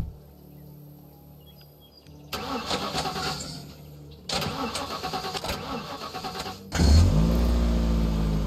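A car engine in the video game The Last Stand Aftermath cranks and catches in several loud bursts, then roars into a strong rev at the end, alone without speech.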